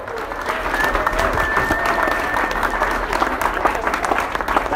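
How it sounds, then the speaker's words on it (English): Audience applause for volunteers at an indie rock concert at The Vera Project in Seattle, a sustained, fairly loud crowd clapping with some cheering and voices mixed in, steady from start to finish. "We give them a round of applause too."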